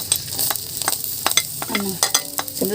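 Garlic sautés in a pan for a tofu and bean sprout dish, frying with a steady sizzle while a utensil stirs and taps in brisk, irregular strokes. The sound is close and has no speech over it.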